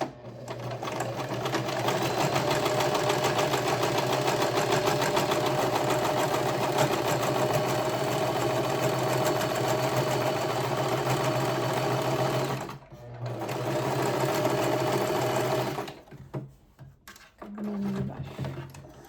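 A sewing machine stitches a seam with a steady close mechanical whir for about twelve seconds, pauses briefly, runs again, then stops in a few short bursts.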